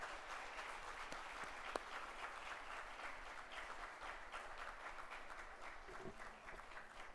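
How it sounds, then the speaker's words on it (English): A graduation audience applauds to welcome the graduates at a college commencement ceremony, a broad, even wash of clapping from a large crowd that holds steady throughout with no voices standing out. "Let's give a thunderous round of applause and welcome all the graduates."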